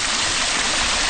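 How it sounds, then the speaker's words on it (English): A small waterfall in a stream at John Bryan State Park rushes and splashes steadily up close, a constant bright hiss of flowing water. "It's got this little waterfall right in here."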